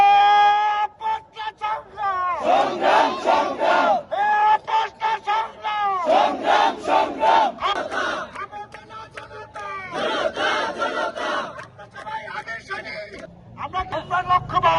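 A protest crowd blocking a road chants slogans together in rhythmic unison, loud and close, with a leading voice calling out and many voices answering in repeated bursts.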